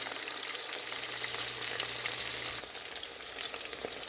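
Crab biryani aromatics, including biryani leaves and rampe, sautéing in hot oil make a dense, unbroken sizzle, close and steady, with a slight drop partway through.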